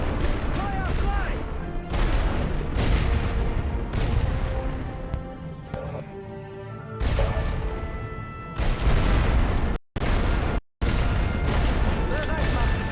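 Rapid volleys of rifle fire and heavy artillery booms in the World War I game Great War Western Front, dense bursts separated by short lulls, with shouted voices mixed in.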